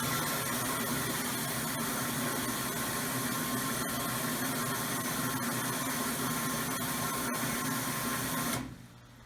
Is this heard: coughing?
no